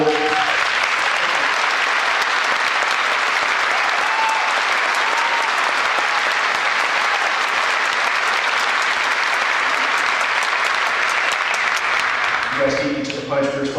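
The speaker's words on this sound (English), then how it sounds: "We're supposed to hold the applause" Loud, sustained applause from a large crowd at a town hall meeting on the Rocky fire in a high school, steady clapping throughout before it fades near the end as voices begin.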